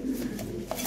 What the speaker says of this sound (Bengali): ইয়ে বহু দামি কবুতর